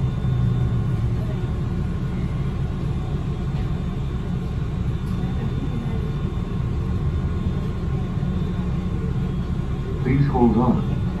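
Honolulu TheBus city bus, Route 61 bus 4001 on the Likelike Highway, pulling away with a steady low engine rumble and road drone throughout, rising slightly near the end, with faint chimes.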